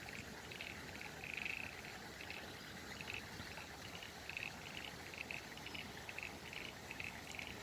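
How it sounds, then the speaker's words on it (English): Frogs croak in a chorus beside a full creek spilling over, with repeated short calls pulsing at intervals over a faint bed of insects and trickling water, quiet and distant. "You can hear the frogs going crazy as well."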